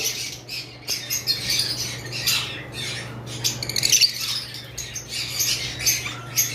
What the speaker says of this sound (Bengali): এগুলোও লুটিনো ফিশার রেড আই কিন্তু এগুলো অফলাইন ব্লাড লাইনের পাখি